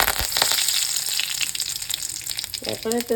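Curry leaves fry in hot coconut oil with popped mustard seeds, giving a continuous close-up sizzle and crackle that a voice briefly joins at the end.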